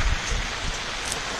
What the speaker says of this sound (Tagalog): Umulan na nga.